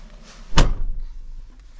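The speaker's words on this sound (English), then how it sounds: "Don't forget to shut the door." A car door is shut once with a single solid, close thunk, followed by a brief quiet rumble of the cabin settling.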